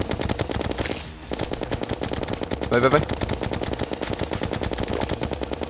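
Rapid, continuous gunfire in Terraria (Expert Mode) rattles in steady bursts, loud and close, with a brief whoosh and a short electronic flourish midway; a voice speaks briefly.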